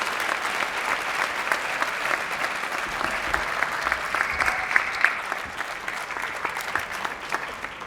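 A crowd at a high school academic achievers ceremony gives a steady round of applause, dense, continuous clapping with a few sharper claps standing out, heard alone with no talk over it.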